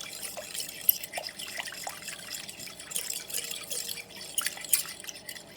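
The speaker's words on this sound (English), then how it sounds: "I'm just going to mix the starter and the warm water together" Fork stirring sourdough starter into warm water in a bowl, giving soft wet sloshing and light clinks in a steady, close mixing rhythm.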